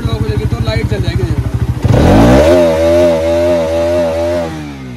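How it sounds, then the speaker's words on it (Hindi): A pocket bike's small engine putters in a fast, choppy rhythm, then revs sharply into a loud, raw buzz with the exhaust removed, holding high and steady. "इसका एग्जॉस्ट निकाल लगा आवाज इतनी प्यारी हो रखी है इसकी"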